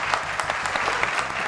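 A studio audience gives a singer a brief burst of continuous clapping, moderately close and steady.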